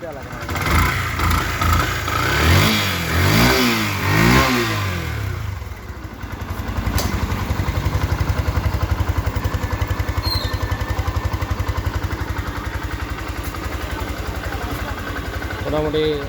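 A second-hand Yamaha FZS V2 motorcycle engine runs at a steady idle with a few revs, a continuous close rumble; someone talks over it early on.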